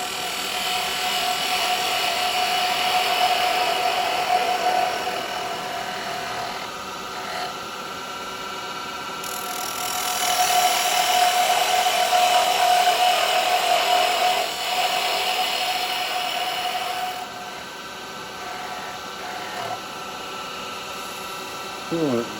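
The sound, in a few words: carbide chisel turning the bottom of a resin bell on a lathe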